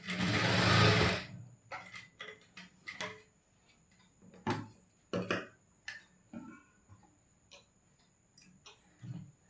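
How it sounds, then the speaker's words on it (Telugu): A sewing machine stitches blouse lining cloth in short, rapid clattering bursts. A longer run opens the passage, then brief ticking stops and starts follow with quiet pauses between them. "ఇప్పుడు దీన్ని ఇటు సైడ్ చిన్న కుట్టు కుడతాను"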